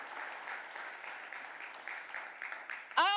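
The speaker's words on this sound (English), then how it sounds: "You can clap for that." Light applause from a city council chamber audience at Philadelphia City Council, steady and fairly faint, ending with a sharp louder burst at the close.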